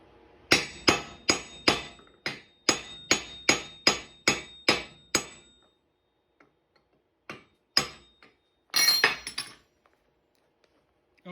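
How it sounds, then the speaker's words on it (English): A hammer strikes a chisel to crack open a lost-foam casting mold, with about eleven sharp metallic blows in a quick, even series, then a pause and a few scattered knocks and scraping clatter, close and loud. "Take a chisel here and crack it open."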